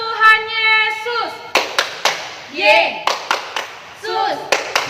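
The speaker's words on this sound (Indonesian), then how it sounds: "Tepuk Tuhan Yesus" At a Sunday school service, children clap their hands in short rhythmic bursts of sharp, close claps during a clap song, alternating with a sung, chant-like voice.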